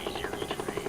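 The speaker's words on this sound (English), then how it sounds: "a medevac chopper is en route to take them" Military medevac helicopter in the Vietnam War flying to collect wounded soldiers, its rotor beating in a steady rapid thump with a continuous engine whine, loud and close throughout.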